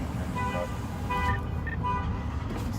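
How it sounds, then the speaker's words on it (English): Several short car horn toots sound at moderate distance on a street during a patrol, over continuous traffic and engine rumble. "Somebody's honking at us?"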